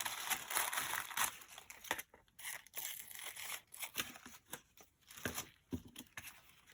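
Tissue paper dress pattern pieces are cut out close by and handled, with crisp crinkling and rustling in irregular bursts and short snips between them, fairly quiet, with no speech.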